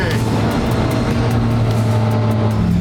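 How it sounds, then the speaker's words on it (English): A Lamborghini Aventador engine runs at a steady, loud, deep drone, heard from inside or close by as the car drives, with constant road rumble and no distinct revs. "Oh, we got the Aventador!"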